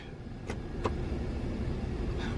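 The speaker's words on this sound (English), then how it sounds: "So we're gonna set the parking brake." Setting the parking brake on a 2019 Chevrolet Silverado produces two short mechanical clicks in quick succession inside the quiet cab, over a low steady vehicle hum.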